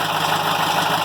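Perkins 4.108 diesel on a Vagabond 39 sailboat running steadily in gear, a close, even mechanical drone with constant low throb and no breaks.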